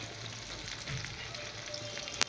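Food frying steadily in a hot pan, with a continuous close sizzle and a few faint stirring scrapes, ending in one sharp clink near the end.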